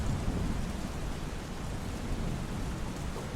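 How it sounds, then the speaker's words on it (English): Rain and thunder in the Roblox game Wild Savanna, set on the Serengeti plains, sound as a steady, dense downpour with a deep rumbling roll underneath. The sound is loud and continuous throughout, with no voices. "As it has started raining over nearly all Serengeti"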